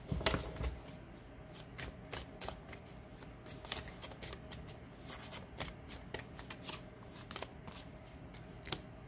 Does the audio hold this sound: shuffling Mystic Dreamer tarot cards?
yes